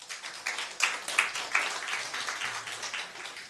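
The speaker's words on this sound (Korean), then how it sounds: "박수 한번 부탁드리겠습니다." Scattered, fairly light applause from a policy forum audience greeting a presenter, a few distinct claps standing out in the first seconds before the sound thins.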